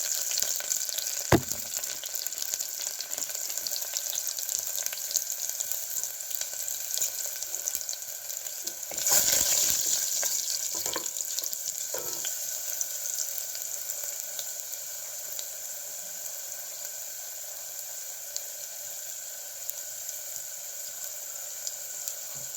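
Half a teaspoon of small cumin seeds and about ten garlic cloves frying in hot oil for a mutton curry, giving a steady close crackling hiss with a few sharper pops partway through and no talking.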